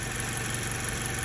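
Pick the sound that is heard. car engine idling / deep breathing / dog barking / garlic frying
car engine idling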